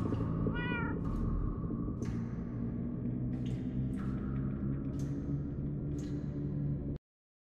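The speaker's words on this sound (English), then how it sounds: "That almost sounds like... cats?" Several cats meow repeatedly in Minecraft Story Mode, high drawn-out calls spaced every second or so over a steady, loud game background.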